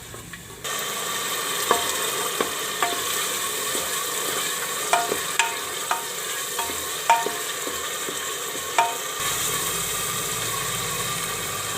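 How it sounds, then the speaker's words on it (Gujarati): Grated tomato gravy sizzles and fries steadily in a pan, a continuous hiss with regular clicks and taps of a spoon stirring, loud and close, with no talking. "તો ટમેટાને આપણે સરસ પકાવવા દેવું."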